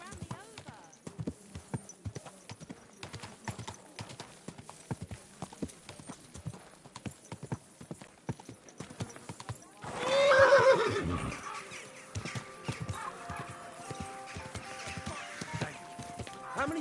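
Horse hooves clip-clop in a steady walking rhythm through a medieval town in Kingdom Come Deliverance 2, with one loud, close neigh breaking out partway through and faint voices in the background.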